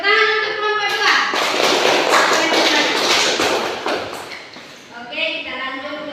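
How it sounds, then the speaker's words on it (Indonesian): Classroom of students clapping for a group after its presentation, a dense burst of claps lasting several seconds, with children's voices before and after. "Tepuk tangan untuk kelompok"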